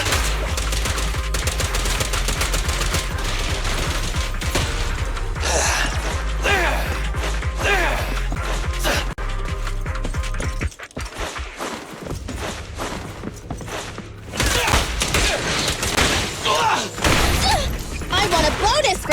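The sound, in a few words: gunfire in the video game Zenless Zone Zero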